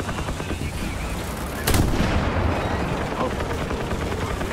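A single sharp cannon blast from a tank in War Thunder, followed by a rumbling battlefield roar with distant gunfire and engine drone; loud and close, with talk nearby.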